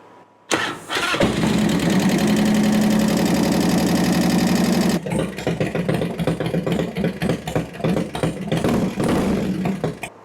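A 2004 Harley-Davidson Softail motorcycle engine cranks and catches with the choke held out, a loud close starter whir giving way to a lumpy, throbbing idle that keeps running with uneven pulses, no talk.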